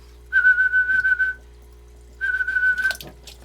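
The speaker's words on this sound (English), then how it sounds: "I like to kind of target train him based on sound. So I'll whistle." Two sustained, steady whistled tones from a person, each lasting about a second, separated by a short pause, clear and close.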